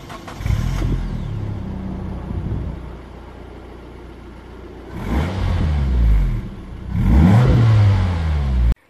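Stock-exhausted Nissan Pulsar N16 1.8 hatchback revving, with mostly intake noise: an opening rev, a steady drone at idle, then two sharp rising revs near the end, close and loud.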